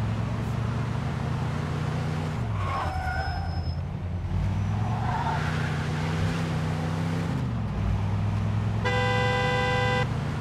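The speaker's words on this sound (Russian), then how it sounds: "Я теперь бибикать вам могу всем, которые меня подрезают." A car engine hums and shifts steadily in the video game Mafia II, then a car horn gives a clear, sustained honk near the end, loud and close over the engine.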